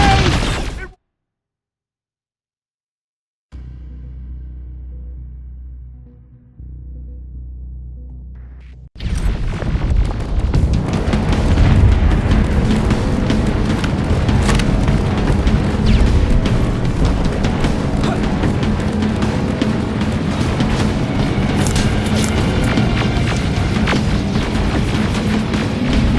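Heavy rocket explosions from the video game Terminator Resistance, loud booming blasts and rumbling battle noise filling the scene after a brief low hum and a stretch of near silence.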